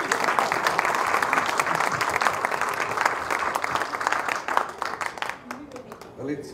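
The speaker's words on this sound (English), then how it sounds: "We need to have a big round of applause for him." A festival audience at a World Cultural Festival curtain raiser event bursts into sustained applause, dense clapping filling the space steadily before thinning out toward the end, with some voices mixed in.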